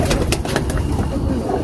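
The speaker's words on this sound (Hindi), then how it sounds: "पकड़ लिया बाकी कबूतर" Pigeons coo softly and continuously at close range amid a dense, busy background of flock noise, with faint rustling and no clear speech.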